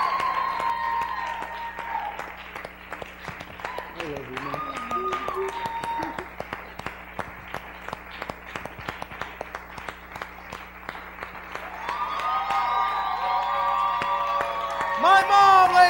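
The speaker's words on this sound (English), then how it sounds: "give her a big round of applause" Audience applause welcoming a speaker's mother onto a stage, a long run of dense clapping throughout, with a voice speaking over it near the start and again toward the end.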